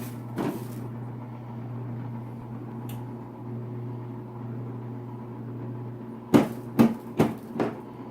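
CatGenie self-cleaning litter box lifting and shaking off its granules: a steady low motor hum, then four sharp rattling shakes in quick succession near the end.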